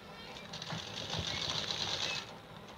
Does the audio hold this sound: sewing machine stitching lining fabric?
yes